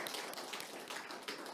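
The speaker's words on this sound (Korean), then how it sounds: "우리 큰 격려의 박수." A church congregation applauding in encouragement, a dense, even patter of many hands clapping together at moderate volume, sustained without a break.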